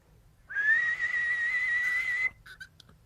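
A person whistles one sustained, slightly wavering tone for about two seconds, clear and close, followed by a few short faint chirps.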